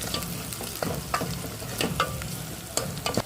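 Chicken being stirred with masala in a hot pan, making repeated scraping and clattering stirs over a steady sizzle, with no voices.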